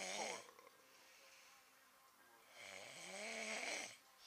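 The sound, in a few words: man snoring loudly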